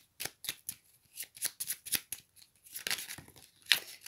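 Tarot cards being shuffled by hand, a run of quick papery riffles and flicks in irregular bursts, close and fairly quiet with no voice over them.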